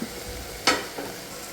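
Ginger and garlic paste fries in a pan for chicken curry with a steady close sizzle. One crisp scrape of stirring stands out, followed by a softer one, and no one speaks.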